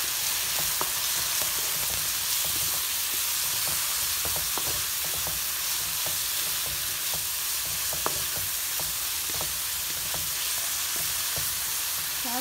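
Vegetables sauté in a hot pan with tomatoes about to go in, a steady close sizzle and fry broken by frequent scraping stir clicks throughout, with no voices.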